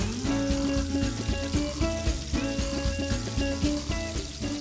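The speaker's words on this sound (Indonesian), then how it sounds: "gorengnya dengan minyak yang panas dan apinya yang kecil" Flour-coated chicken frying in hot oil over a low flame gives a continuous busy sizzle and crackle, with rhythmic clinking and stirring sounds running through it and no talk.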